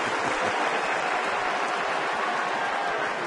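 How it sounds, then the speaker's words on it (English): A baseball crowd at Fenway Park, a dense, continuous roar of clapping and booing from a large stadium audience that stays loud and even throughout. "There's a mixture, John, of claps and boos, but booing sounds louder than clapping."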